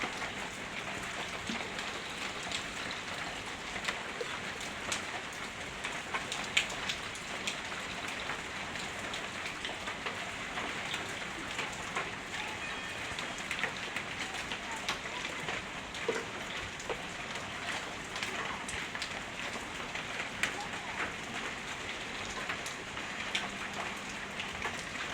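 Steady rain patters and crackles on surfaces throughout on a rainy day, a dense, even hiss of countless drops with occasional sharper taps, soft and unbroken with no voices.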